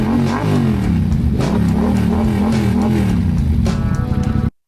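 Large motorcycle engine revving up close, a loud, rough low rumble with repeated throttle blips rising and falling, briefly climbing higher near the end before cutting off.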